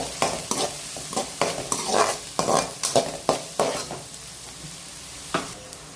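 Sliced onions sautéing with fennel seeds in a hot pan, sizzling steadily while a spoon scrapes and stirs in repeated sharp strokes at an irregular rhythm, close and clear with no voices.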